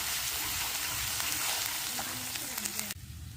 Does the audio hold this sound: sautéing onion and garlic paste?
yes